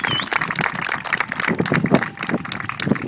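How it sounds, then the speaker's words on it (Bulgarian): Crowd applause for the FC Varna women's football team as second-place finishers at a medal ceremony, a dense patter of many hands clapping steadily for a few seconds. "Първо аплодисменти за тях"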